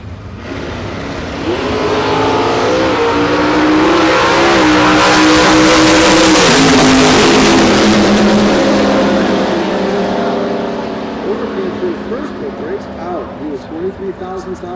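Door slammer drag race cars, Oldsmobile among them, roaring hard as they launch and accelerate down the strip, the engine noise swelling to a loud peak before fading, with an announcer talking over it.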